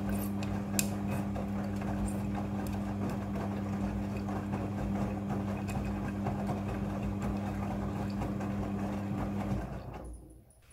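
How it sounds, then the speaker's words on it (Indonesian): A Midea front-loading washing machine fills with water for its rinse cycle, giving a steady low hum and rushing flow that runs evenly for about nine seconds, then cuts off abruptly near the end. "Jadi jumlah air yang dibutuhkan untuk proses pembilasan ini diatur secara otomatis oleh mesin cucinya."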